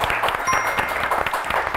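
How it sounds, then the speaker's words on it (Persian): Studio audience applause on a TV quiz show, dense steady clapping with a faint bright ding ringing briefly over it. "تشویقشان بکنید"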